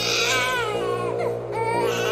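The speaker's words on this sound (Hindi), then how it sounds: "वो बच्चे के रोने की आवाज टीवी से आ रही थी" An infant cries continuously and loudly, the wail wavering in pitch with a brief catch midway, over a constant low electrical hum.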